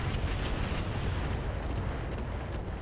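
Mech weapons in RogueTech unload together while the mech runs overheated, a dense, continuous rumble of booming cannon and missile fire that stays loud and unbroken throughout.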